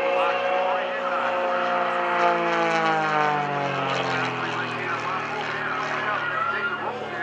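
A propeller aerobatic airplane drones loudly overhead at the 2012 New Garden Airshow while flying a slow roll. The engine's pitch sweeps steadily downward, and an announcer talks over it.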